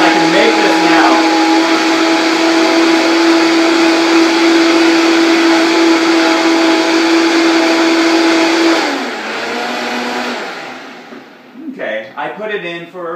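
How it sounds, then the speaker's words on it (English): A blender whirs loudly and steadily while blending mushroom soup, then its pitch drops and the motor winds down and stops, followed by people talking briefly. "you can have it in the blender longer and warm it up, actually."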